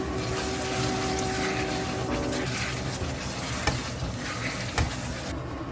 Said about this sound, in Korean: 만들어놓은 소스를 부어주고 계속 볶아주세요